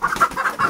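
Chickens clucking close by in a rural yard, a run of short repeated clucks over 0.7 s with no talk.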